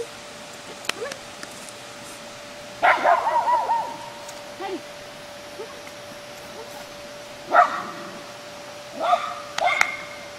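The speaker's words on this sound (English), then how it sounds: "He heard Toby barking" A Yorkie barks in a few short bursts, spaced apart and moderately close, against a quiet room with a faint steady hum.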